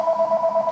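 A phone sounds briefly with a steady electronic tone that pulses in a quick, regular rhythm, heard alone and fairly loud.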